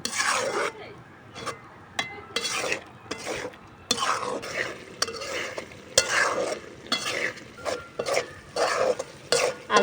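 Potatoes and eggplant sautéed and stirred in a pan for a fish curry, a steady sizzle under repeated scraping strokes of a spatula against the pan, close and continuous.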